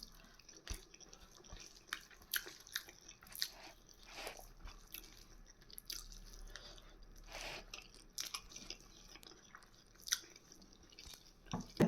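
Someone eats bitter gourd curry cooked with tamarind and sesame powder, giving quiet close chewing and crunchy bites with soft wet mouth sounds, and no talking.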